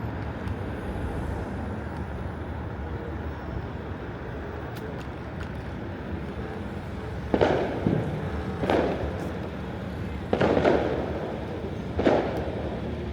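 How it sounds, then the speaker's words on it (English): Several distant booms of Canada Day fireworks, spaced a second or two apart, rising over a steady rumble of road and engine noise during a slow night ride in Toronto. "See if I can spot the fireworks."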